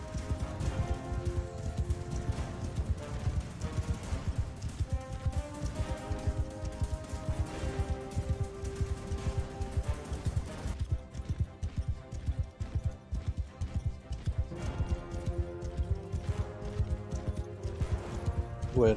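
Horse hooves gallop in Mount & Blade 2: Bannerlord, a steady rapid clip-clop running the whole stretch over a tonal game backdrop, with no one talking.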